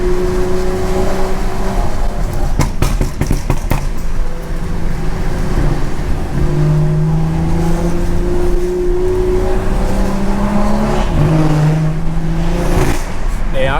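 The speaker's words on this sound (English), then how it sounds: "this Audi going crazy" An Audi car drives hard, its engine droning loud and close with rising and falling revs and steady road roar, while people talk over it.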